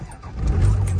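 A pickup truck's engine cranks and catches, rising into a steady low idle rumble that builds and holds close by, with a faint jingle of keys at the start.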